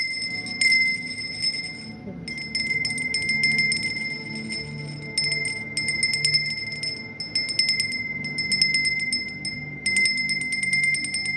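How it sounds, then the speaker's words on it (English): A bell is struck repeatedly in a quiet room, each ring bright and sustained with a steady ringing tone, sounding in several bursts separated by short gaps, close by and fairly loud with no speech. "So let me ring the bell."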